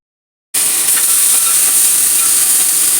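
Onions roasting with spice powders in a pan for a Kerala-style tuna fish milk curry give a steady, loud sizzle and hiss that starts abruptly and runs unbroken, with faint stirring scrapes underneath.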